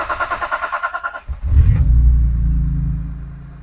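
A BMW E30 fitted with an S54 engine from an E46 M3 cranks with a quick, steady rhythmic churn for about a second, then catches and settles into a loud, deep, rumbling idle.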